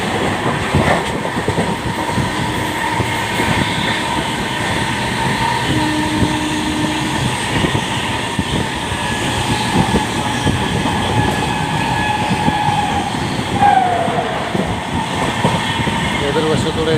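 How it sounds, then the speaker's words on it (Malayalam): A train passing on the opposite track, heard from inside a moving train: loud, continuous rumbling and rhythmic clattering of wheels, with a brief squeal near the end. "എതിർവശത്തൂടെ ട്രെയിൻ പാസ് ചെയ്ത് പോകുന്നുണ്ട്."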